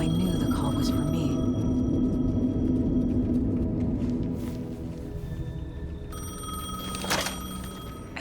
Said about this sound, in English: The payphone was ringing.